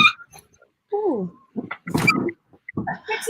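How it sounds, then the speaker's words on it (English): A dog whimpers and yelps in short, high, whining bursts close by, mixed with people talking during a casual chat. "I hear a dog."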